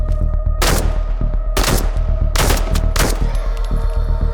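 Loud gunshots ring out in a survival VR game, four sharp separate blasts spaced about a second apart over a constant low rumbling background, with no talking.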